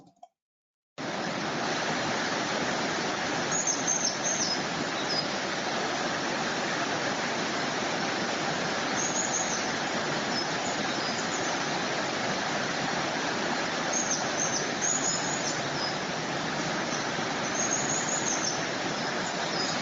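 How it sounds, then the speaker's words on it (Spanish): The Irati river flowing, a constant dense rushing of water after a brief quiet start, with faint high bird chirps occasionally surfacing in the background. "Aparte del pájaro de fondo no es ruido, sino que es el río Irati"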